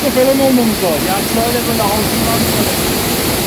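Aras Waterfall pours in a steady, rushing roar that fills the whole clip, while voices talk in Turkish close by.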